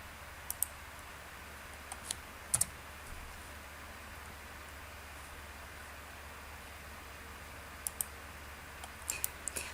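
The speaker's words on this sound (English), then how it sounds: "I can type my notes" A few scattered, faint key taps on a computer keyboard while typing notes, in short clusters separated by long stretches of quiet room hiss.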